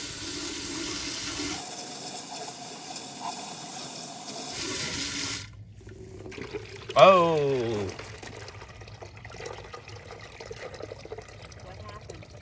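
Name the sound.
garden hose water backwashing RV waste valve drain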